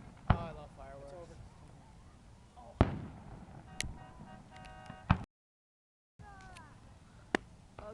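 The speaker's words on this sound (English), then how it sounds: "I love fireworks." Canada Day fireworks in Orillia burst outdoors at a distance with a few sharp separate bangs, followed by crackling and faint whistling tails, while people chat quietly nearby.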